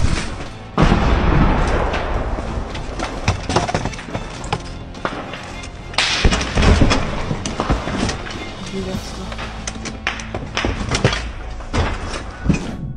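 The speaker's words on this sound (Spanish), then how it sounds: "Con explosiones y balaceras de fondo" Explosions and bursts of gunfire in a war zone around a destroyed house, loud booms and sharp cracks recurring irregularly over a dense rumbling background.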